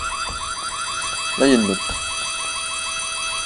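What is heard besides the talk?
alarm siren in the video game White Day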